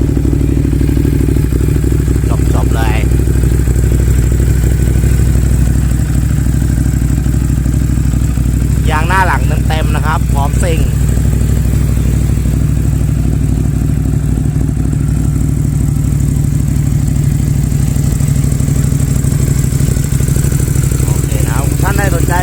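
A 2016 Ducati Monster 821 motorcycle engine idles steadily throughout, a constant low rumble, with a few brief clatters and a voice speaking in Thai now and then over it.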